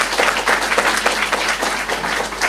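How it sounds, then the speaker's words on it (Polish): Warm sustained applause from a large audience at a political club conference on agriculture, dense and continuous clapping with a faint low hum beneath it. "więc naprawdę tu gorące brawa."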